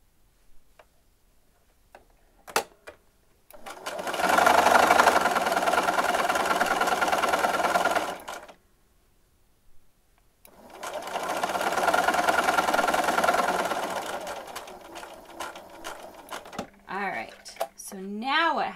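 Sewing machine stitching a long seam, running in two steady bursts of rapid, even needle clatter separated by a pause, with faint handling clicks between and a voice speaking at the end.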